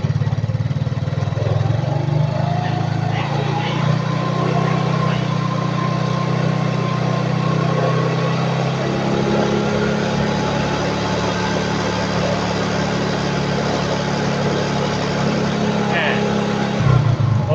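Yamaha Mio scooter engine with a flickering electrical fault from an LED headlight, running steadily with a constant low hum and rising rev tones, close by with light background noise.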